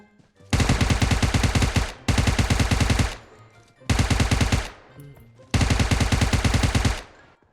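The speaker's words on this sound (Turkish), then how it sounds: "Adama 30 50 ya 70 tane mermi attık herhalde ya bota" Gunfire from a gun in the mobile battle royale game PUBG Mobile rattles in four long, loud automatic bursts separated by brief pauses.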